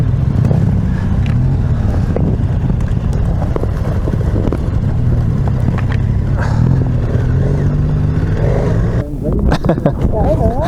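A 2021 KTM 1290 Super Adventure R is ridden off-road on a tight trail, its engine a loud, continuous low drone mixed with wind buffeting, while a rider talks over it.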